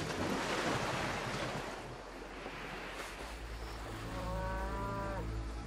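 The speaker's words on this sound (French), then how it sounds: "Autour d'eux, les troupeaux d'Hélios, vaches, brebis, veaux, moutons, sont admirables, si gras, si resplendissants." Cattle lowing near a seashore, with a drawn-out moo rising out of a steady wash of surf and waves, fairly soft and distant-sounding.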